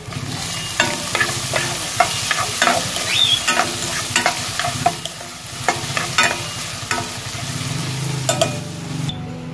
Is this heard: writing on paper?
no